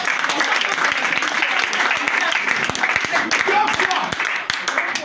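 Church congregation applauding steadily to acclaim Jesus during a testimony service, dense continuous clapping throughout with voices mixed in.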